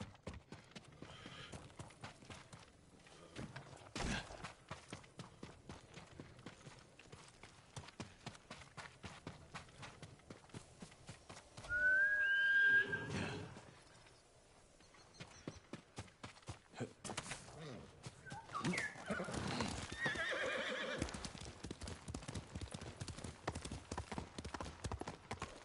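Hooves clip-clop steadily in the video game Ghost of Tsushima, with a horse's whinny breaking through midway and running footfalls picking up again afterward.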